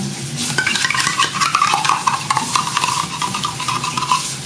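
Tomato is stirred into harissa sauce in a pan, with a spoon scraping and knocking against the pan in a quick irregular rhythm over a soft sizzle, close up, with no talking.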